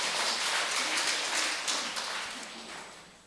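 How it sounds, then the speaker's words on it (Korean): At a Korean Won-Buddhist memorial service, the congregation claps for the vice-principal. Crisp, dense clapping from a roomful of people starts fairly strong and gradually tapers off. "우리 교감님께 다시 한번 큰 박수"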